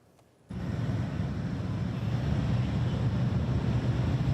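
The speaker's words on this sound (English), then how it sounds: "the sound of those motorcycles rolling by speaks volumes" Motorcycle units rolling by in a funeral procession for a fallen deputy, a steady low engine rumble that starts abruptly after a brief quiet and holds loud and continuous, swelling slightly as the bikes pass near.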